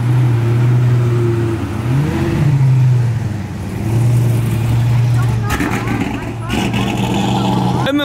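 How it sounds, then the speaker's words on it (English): A Lamborghini rolls out with its engine revving loud and near, pitch climbing and dropping in smooth surges, while people talk over it. "We got the Lambo rolling out behind him."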